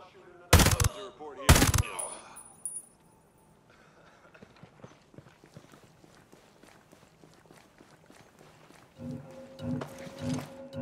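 Two loud, sharp gunshot cracks ring out close together in the Ghost Recon Breakpoint military shooter, followed by quieter scattered clatter and faint voices.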